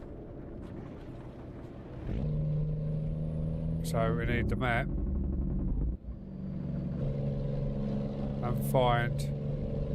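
Car engine in a racing video game with rain and a worn engine, a steady low hum that rises in two sharp revving whines, heard under someone talking.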